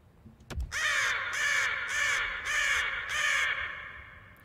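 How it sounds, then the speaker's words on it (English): A raven croaks loudly and close by, a run of five harsh, hoarse caws in a steady rhythm with no other sound behind them. "A raven."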